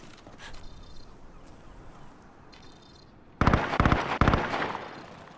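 Gunfire in Call of Duty on the Rebirth map: after quieter game ambience, a loud close burst of sharp, rapid shots erupts and cracks repeatedly for about two seconds, with no talk over it.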